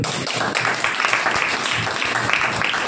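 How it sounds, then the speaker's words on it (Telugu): A congregation at a Christian sermon claps together in a steady, dense burst of applause that fills the space, with no voices clearly heard over it. "చప్పట్లు కొట్టండి"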